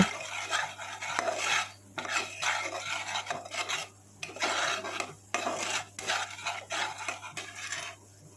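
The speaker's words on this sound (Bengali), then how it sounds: "এবার নাড়িয়ে চাড়িয়ে নেব" Homemade cumin and chili powder being stirred in a pan for a paneer dish, a near scraping and rasping of utensil on metal that comes in repeated bursts with short pauses, with no voices.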